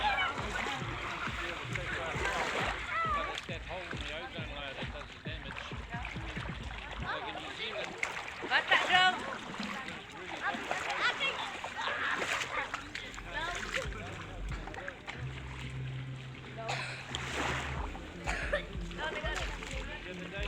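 Water splashes and sloshes at the shore as a child plays in the sea, with people talking and calling out throughout.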